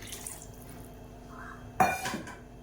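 Water splashes into a pot of kalari curry with onions in a brief pour, a sudden clatter of metal and liquid midway over a quiet kitchen background.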